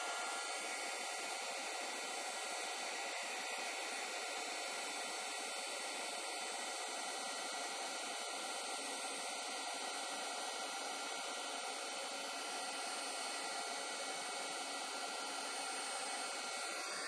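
Heat gun used to heat-set paint on a painted gourd, a steady continuous blowing whir that holds evenly throughout without breaks.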